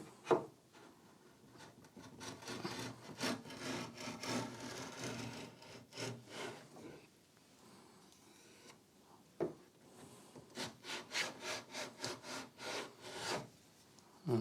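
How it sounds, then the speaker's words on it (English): A bargain hand tool blade cutting a straight chamfer along a piece of wood, with repeated close rasping strokes in bursts, a pause in the middle, then a faster run of short scraping passes. "First of all, I'm just going to cut a straight chamfer."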